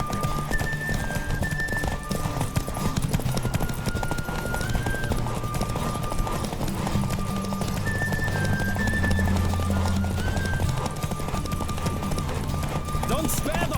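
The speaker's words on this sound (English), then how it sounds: "Don't spare the horse." In The Witcher 3, a horse gallops with rapid, rhythmic hoofbeats and lets out a whinny, steady and close throughout, while people talk over it.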